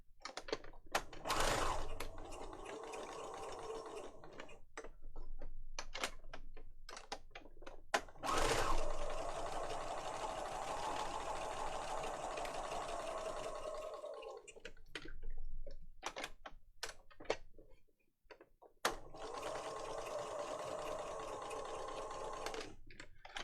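Sewing machine stitching through a lap book journal, long runs of rapid rhythmic needle chatter broken by pauses and clunks, close and steady, without any talk.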